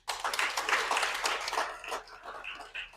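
An audience at a sport wrap-up event breaks into brief applause, a dense burst of clapping that tapers off within a few seconds.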